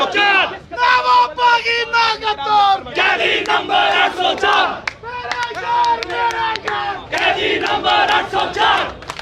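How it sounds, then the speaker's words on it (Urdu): Crowd outside a court rallying for a released prisoner, loudly chanting slogans in repeated call-and-response bursts with short pauses between phrases, voices massed and close, with some clapping mixed in. "804 کے نعرے لگ رہے ہیں"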